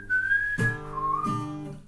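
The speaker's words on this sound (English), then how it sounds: "This song makes me want to whistle it too" A person whistles a short tune, a clear high pure melody of a few sliding notes with a brief pause in the middle, close and fairly loud, no talking.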